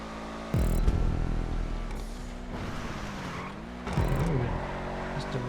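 Sports cars such as a Pariah and a Blister Compact race in GTA 5. Engines roar and rev with shifting pitch, and tires squeal briefly as the cars skid and overtake.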